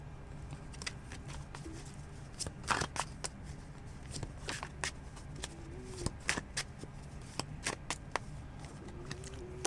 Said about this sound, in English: I'm going to get more cards here.